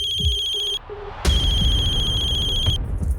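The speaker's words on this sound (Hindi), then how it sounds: "मम्मी का फोन।" A phone ringtone plays, a steady high electronic melody that cuts out briefly, then resumes louder over background noise before stopping.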